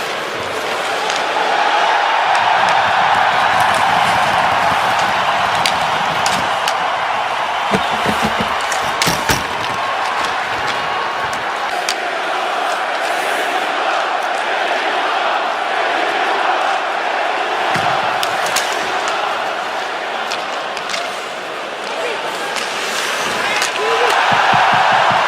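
A hockey arena crowd roars and cheers wildly without letup, a loud, dense wall of voices with scattered bangs and thumps running through it.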